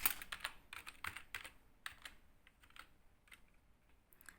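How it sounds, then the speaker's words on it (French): Keys tapped on a computer keyboard while typing a sentence in Microsoft Word, including the comma and space bar, close and clear in irregular bursts that thin out toward the end, with no speech. "je clique sur la touche où il y a la virgule, espace, avec la touche espace"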